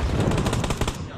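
Rapid automatic gunfire crackles in a first-person shooter video game, a single dense burst of closely spaced shots lasting about a second, loud and up front with no talk over it.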